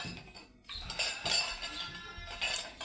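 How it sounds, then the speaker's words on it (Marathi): Steel pots, plates and dishes clattering and clinking in a basket as they are handled before washing, with irregular close metallic knocks and rattles and no talking. "भांड्याचं टोपलं आणलं मी, कारण आता मला घासायचे आहेत भांडे"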